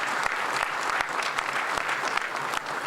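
Audience at a police department honor awards ceremony claps for the national anthem singers, a full sustained round of applause with individual claps standing out, no voices heard.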